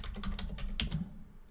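Rapid, light clicking of keys as someone types a command on a computer keyboard, with a quick even rhythm of taps close to the microphone.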